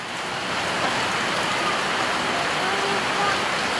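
Steady rainy-season downpour, a dense even hiss of falling rain that stays loud and unbroken from start to finish with no voices over it.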